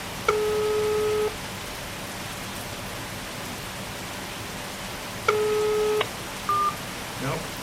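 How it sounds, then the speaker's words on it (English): A phone call being forwarded to another number, with two long ringback tones separated by a pause and a short beep, heard over steady rain-like background hiss. "now it's forwarding to his wife's phone"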